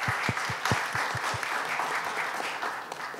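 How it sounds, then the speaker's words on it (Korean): Applause from an audience at a youth startup pitching day in Busan, honoring five company presenters; sustained clapping with a few louder claps early on, steady and fairly near throughout. "5분의 대표님들께 다시 한번 큰 박수 부탁드리겠습니다"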